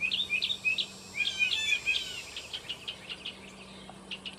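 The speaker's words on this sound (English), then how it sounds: "they're sitting up there on the wire just singing and enjoying their life" Small birds perched on a wire outdoors chirp and sing in quick, bright bursts, fairly faint and somewhat distant, with a steady low hum underneath and no talking.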